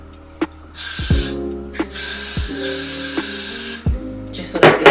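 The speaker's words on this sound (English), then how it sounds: "I'll take my freeze spray and I'm gonna spray it inside just a little bit." Freeze spray aimed inside a frontal wig gives several loud, steady hissing bursts, each about a second long, separated by short pauses and clicks of the can, close to the microphone.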